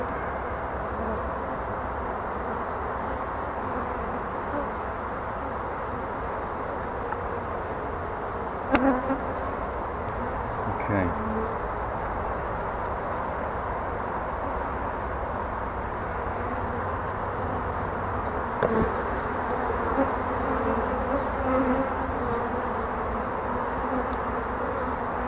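Honey bees hum steadily from an opened hive with exposed honey, a continuous close buzzing drone filling the whole stretch, with a couple of brief louder swells as individual bees pass near.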